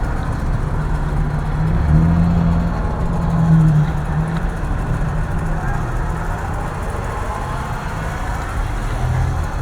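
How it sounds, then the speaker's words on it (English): Busy street traffic in Valladolid, Yucatan, with a steady close rumble of cars and heavier vehicles passing and idling, swelling around a couple of louder passes and continuing without pause. "you can sense that there's more traffic, there's more people on the street"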